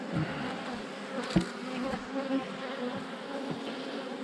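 A hornet buzzing around a beehive, with a steady droning hum of flying insects close by and a few brief knocks and bumps, no voices.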